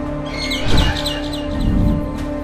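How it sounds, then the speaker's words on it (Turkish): A series of quick, bright bird chirps in the video game Garten of Banban 6 repeats in short bursts over a steady electronic hum, with faint background rumble. "Burada arkadaşlar kuş."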